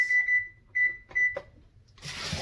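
A kitchen oven timer is set for 15 minutes while baking sushi, giving three short, clear electronic beeps in a steady rhythm, followed by a sudden burst of hissing noise.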